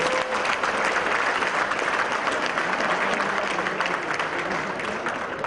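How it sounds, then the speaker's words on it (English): A large audience at an awards gathering in Malaysia applauds a sand artist, with steady, dense clapping held at full strength for several seconds. "can we hear a big round of applause, ladies and gentlemen?"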